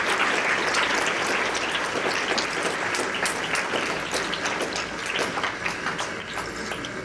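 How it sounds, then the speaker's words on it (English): Applause at an elementary school sixth-grade graduation ceremony: a dense crowd clapping steadily for the teachers, loud at first and easing slightly toward the end, with no talk over it. "please have a round of applause for our teachers"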